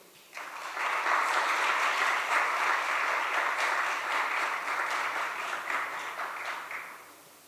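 An audience bursts into applause for dancers at a talk show event, the clapping rising suddenly, holding strong and dense for several seconds, then tapering off.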